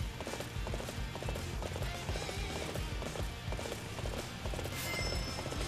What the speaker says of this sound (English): So nice to have a horse that actually works.